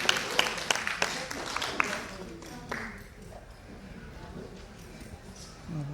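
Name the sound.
audience clapping for the First Lady of Abia State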